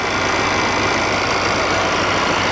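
A Volvo XC90 with a 2.0-litre four-cylinder turbo diesel engine idles steadily close by, giving a constant dense rumble throughout with no talking.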